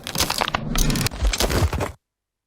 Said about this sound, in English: in the crack of your dish,